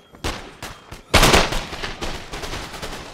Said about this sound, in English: Now they made the first shot.